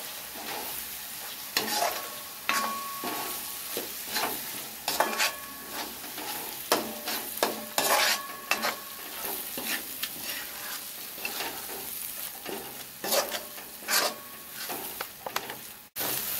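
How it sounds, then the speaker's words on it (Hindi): Ground green chickpeas fry in a spice masala, hissing steadily while a spoon scrapes and stirs through the mix in repeated close strokes, with no talking. "अब हम इसी में ये पिसा हुआ हरा चना मिला देते हैं और इसको दो से तीन मिनट के लिए हम फ्राई कर लेंगे"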